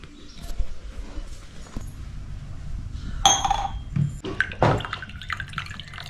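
Coconut water poured into a glass, uneven trickling and dripping with a few glassy clinks midway and louder splashes later, close up and with no voices.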